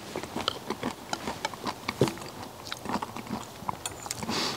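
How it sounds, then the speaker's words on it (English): Crunchy walnuts in a bowl of cranberry walnut oatmeal are chewed up close, a steady series of soft crunching bites and mouth sounds, no talking. "The nuts in mine are very crunchy."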